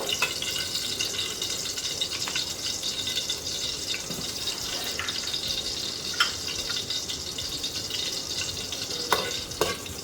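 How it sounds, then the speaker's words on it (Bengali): Two dried red chillies fry in oil in a pan, giving a continuous bubbling sizzle with occasional light pops and clinks that stays steady and close throughout, with no talk. "ফার্স্টে আমি তেল দিলাম, শুকনো মরিচ চিড়ে দিলাম 2টা, একটু বাদামি হবে।"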